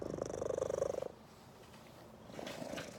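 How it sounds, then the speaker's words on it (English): A pet cat purrs softly up close, a steady rhythmic rumble for about a second, then quiet room tone before a fainter stretch of purring returns. "She was my first cat I got as an adult."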